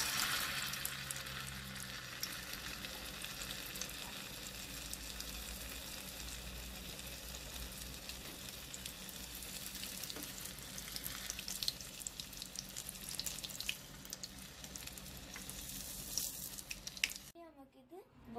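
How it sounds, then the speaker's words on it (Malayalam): A small piece of chicken lollipop frying in hot oil, giving a steady, continuous sizzle and crackle that holds evenly for most of the stretch before cutting off near the end, with no voices. "നമുക്ക് ഇതിലേക്ക് ഉപ്പ് നോക്കാൻ ചെറിയ പീസ് വറുത്തെടുക്കാം."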